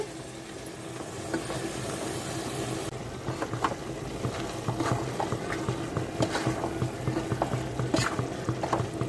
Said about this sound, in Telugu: ఉడుకుతుంది కదండి